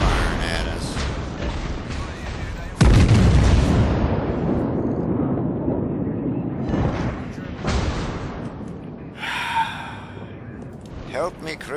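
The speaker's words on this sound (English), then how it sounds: "And a Queen Elizabeth firing at us." A Queen Elizabeth battleship's guns boom in a naval battle game, one sudden heavy blast followed by a long rumbling decay and a later smaller hit, with a player talking over it.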